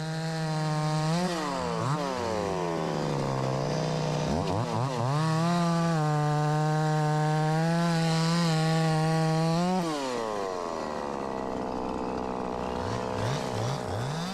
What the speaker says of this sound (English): 48cc chainsaw and